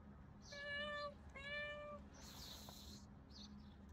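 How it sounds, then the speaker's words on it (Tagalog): Hungry pet cats at feeding time meowing close by, two drawn-out plaintive meows in quick succession, followed by a brief hiss of background noise, with no talking. "Yung ating alagang pusa medyo gutom."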